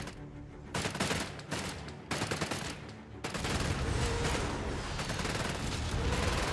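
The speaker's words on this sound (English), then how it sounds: "They're shooting at us!" Heavy battlefield gunfire in Company of Heroes 3, a World War II strategy game, with dense overlapping rifle and machine-gun bursts and explosive booms that thicken into a continuous, loud fusillade.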